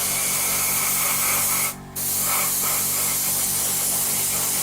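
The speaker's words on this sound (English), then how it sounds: "airbrush over the top to dry the area, and you'll see it happen" An airbrush sprays paint over the top of a wet area to dry it, a loud, close, steady hiss that cuts out briefly for a split second and then resumes.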